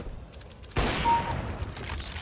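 In CSGO gameplay, a sniper rifle fires a single sharp, loud shot that fills the space, followed by a short ringing tail and quieter game sounds.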